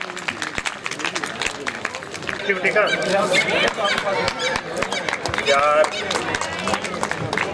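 Clapping rings out at a Rajasthani community gathering in Izzatnagar, Bareilly, irregular, close hand claps mixed with crowd chatter and people talking over it, building in density midway.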